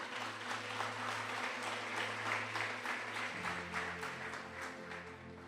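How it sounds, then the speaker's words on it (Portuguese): A church congregation claps together in steady, continuous applause, moderately distant and even in volume throughout, with a low organ-like drone underneath. "Vamos aplaudir a palavra do Senhor."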